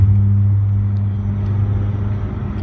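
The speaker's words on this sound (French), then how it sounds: "il a une 205 de 1985, mais alors il fait le même bruit qu'une Bugatti Chiron" A 1985 Peugeot 205 engine running loud, a steady deep idling rumble with a strong low hum, close and continuous without talk.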